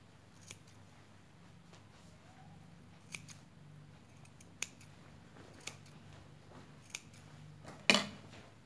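Scissors snip thread during sewing of a cotton mask, with several distinct sharp close snips spaced a second or so apart over a faint low hum, ending in a louder rustling handling noise.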